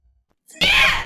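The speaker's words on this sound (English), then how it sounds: "that's Wild Lines female scream here" A female scream sound effect, a short loud shrill cry that bursts in after near silence and holds for about half a second.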